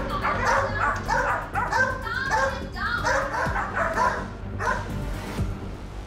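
Several working dogs bark and yip in quick bursts close by, with whimpering mixed in and people speaking underneath.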